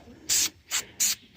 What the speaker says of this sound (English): We're going to spray these up with some nice aluminum spray paint.